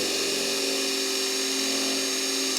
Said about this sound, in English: if you reverse the drill and go backwards on it